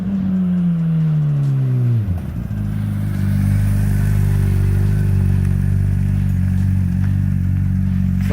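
Honda CBR600RR motorcycle on a test ride after wreck repairs, its engine rising in a high rev, dropping sharply, then pulling away in a steady, loud, close drone that holds to the end.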